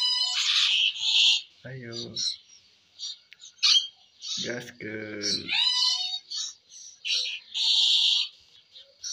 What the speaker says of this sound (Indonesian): Banyak burung ini.